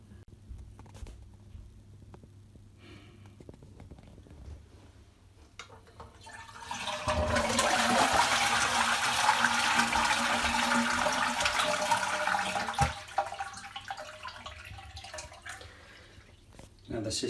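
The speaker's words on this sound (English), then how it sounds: "Then we can flush the toilet and empty the cistern." A toilet with a Roca cistern is flushed with its isolating valve shut, a steady rushing gush of draining water that swells after a quiet start, runs for several seconds, then fades to trickles without refilling.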